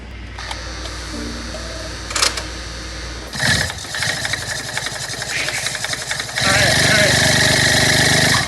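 A BMW i8 engine with a repaired blown head gasket is test-fired with parts still disconnected: it cranks and catches a few seconds in, then runs loud, rough and uneven, swelling louder near the end, with people talking over it.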